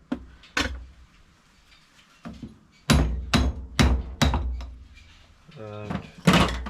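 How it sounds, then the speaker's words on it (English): A small hammer taps metal parts on a Myford ML7 lathe in a home workshop, a series of sharp distinct knocks, some spaced and some in quick succession, close and fairly loud, mixed with quieter handling clatter. "Let me get my little hammer."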